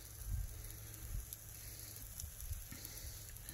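Shrimp frying in a pan, a steady close sizzle with soft bursts of crackle and low rumbling pops throughout.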